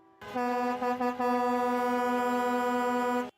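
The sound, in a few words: truck horns honking in protest outside Parliament Hill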